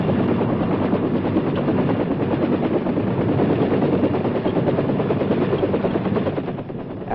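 A Vietnam-era US Army helicopter running on a flight line, its rotor chopping in a fast, continuous loud pulse under a heavy engine roar, close by.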